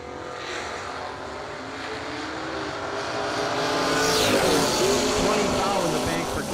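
A Chevrolet Monza and a Chevette launch in a drag race, their engines rising into a loud sustained roar that swells and passes, with an announcer talking over it.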